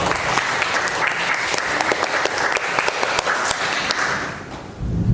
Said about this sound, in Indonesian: Baik, aplaus untuk kelompok.